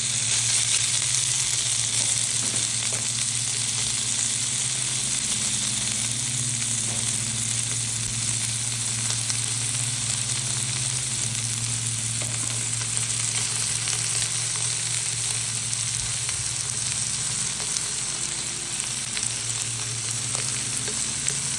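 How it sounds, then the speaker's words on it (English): Burgers searing in a hot pan, a loud, steady, close sizzle and crackle of frying that holds evenly throughout with a low hum beneath it. "So we'll go ahead and put the burgers in"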